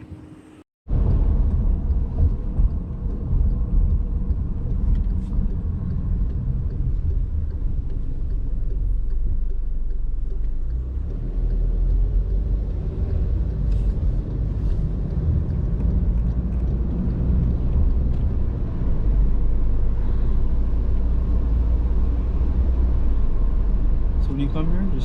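A car drives along during a first-time learner's driving lesson, with a steady engine and road rumble heard from inside the cabin while people talk over it.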